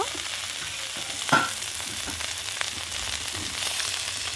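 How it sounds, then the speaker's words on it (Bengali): Ginger paste and turmeric fry in hot oil with cumin seeds while being stirred, a steady soft sizzle with a sharp scrape or clatter near the start and faint stirring sounds throughout. "তেলের মধ্যেই হলুদ দিয়ে দেবো, নাড়াচাড়া করে নুন দিয়ে দেব"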